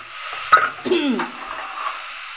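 Ash gourd frying in a pan, giving a soft steady sizzle with a few brief stirring scrapes near the start, close and moderate.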